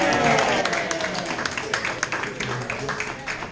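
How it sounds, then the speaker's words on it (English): A small crowd at an Irish Guinness tasting gives a brief round of applause for a woman who answered a question, dense clapping close by and fading slightly toward the end. "Round of applause for this lady."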